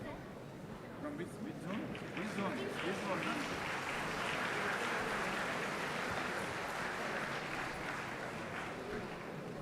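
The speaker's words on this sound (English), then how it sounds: "Please don't stop applauding the children." Sustained applause from an award ceremony audience cheering children, a dense steady clatter of many hands that swells slightly midway and carries on without pause.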